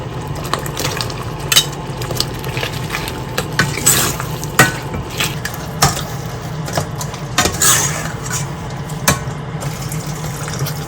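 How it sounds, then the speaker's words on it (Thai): Beef is stir-fried in coconut cream and curry paste in a pan, a soft steady sizzle broken by repeated scraping and clinking stirs of a utensil against the pan, close up with no talking. "เครื่องแกงหอมแล้วก็เอาเนื้อลงไปผัดนะคะ"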